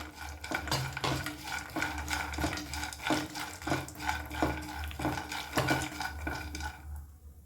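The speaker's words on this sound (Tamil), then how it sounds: "அதுக்கப்புறம் பிஸ்தா, அதுக்கப்புறம் அண்டிப்பருப்பு, இது எல்லாத்தையும் சேர்த்து நல்லா வறுத்துருவோம்" Pistachios and cashews dry-roasting in a pan, heard as a rhythmic run of scraping and clinking strokes from stirring, moderately close and without any voices.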